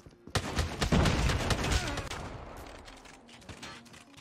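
Rapid gunfire from a Striker shotgun in the game COD Mobile: a dense burst of loud, close shots in the first two seconds, thinning into scattered softer cracks and a fading tail, without any talking.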